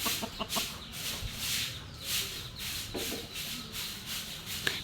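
Laying hens cluck in a coop with a steady run of soft calls and short clucks, alongside faint rustling and scratching noises at moderate distance.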